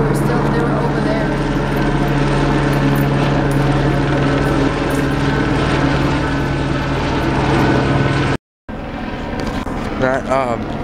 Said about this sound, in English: The helicopter's been going off since 2 a.m.